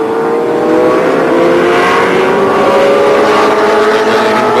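Touring cars race at a round of the 1986 Australian Touring Car Championship, their engines roaring loud and steady with rising and falling pitch as they pass close by, with no talk over them.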